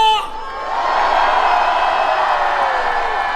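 At an anti-impeachment rally on Yeouido on March 1st, a large crowd roars with shouts and cheers, the noise rising after a brief voice and holding loud and sustained.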